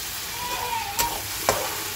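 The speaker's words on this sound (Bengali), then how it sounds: "এবার এই মশলাটাকে পুরো আমি সুন্দর করে কষিয়ে নেব।" Onion and spice paste frying in a pan, a steady close sizzle with two brief sharp clinks or scrapes from stirring, no voices.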